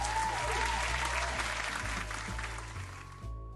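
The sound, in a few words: applause in a video game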